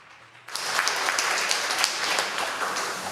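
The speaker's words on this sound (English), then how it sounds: "Come on, man, give her a better round of applause." A crowd breaks into loud applause after a brief quiet moment, sustained clapping filling the rest of the clip.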